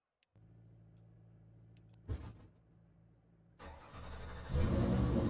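Car engine firing up in a racing video game set at the Nürburgring: a brief click and electric hum, a sharp starter burst, then the engine catching and settling before revving louder, with no talking.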